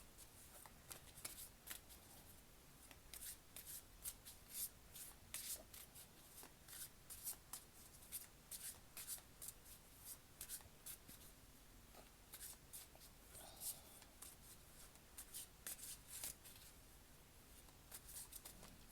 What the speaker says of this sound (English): I'm going to stick that card back in here.